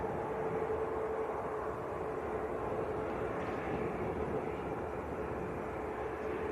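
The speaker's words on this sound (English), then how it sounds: "Looks like this Loganair might be coming down our favourite taxiway." A Loganair aircraft taxis at Manchester Airport, giving a faint, steady engine hum with a thin whining tone, distant and unbroken, with no talking.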